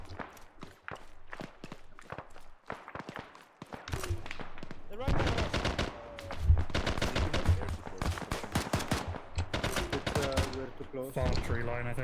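An RPK machine gun fires in the ArmA video game in dense, loud bursts of rapid rounds, with scattered single shots before and between them. Voices talk over the shooting.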